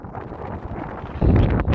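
Gusty wind buffets the microphone on the Ridgeway trail in a continuous rough rumble, swelling louder in the final half second.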